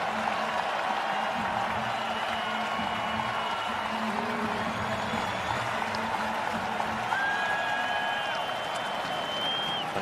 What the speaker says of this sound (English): A nice pop from the crowd